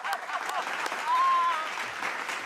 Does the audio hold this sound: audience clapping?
yes